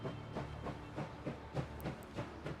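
An armored train in the game Last Train Home rolls to a halt, with a steady low rumble carrying rhythmic wheel clacks roughly every half second and a faint hiss above.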